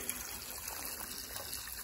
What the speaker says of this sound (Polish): O, jaka piękna woda leci z tamtej strony.